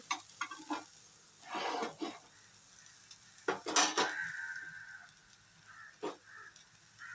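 Bread roast cooks in a pan on a stove, with a low sizzle beneath scattered clinks and scrapes of a utensil against the pan, quiet and close, with a few sharper metallic knocks.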